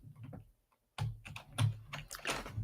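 Someone types on a computer keyboard that has faulty keys. The clicks come in quick, close bursts with a brief pause near the start, and no talk is heard over them.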